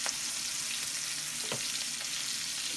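Pork searing in a hot pan, a loud, steady hiss of frying close by with a few faint scrapes, and no voices.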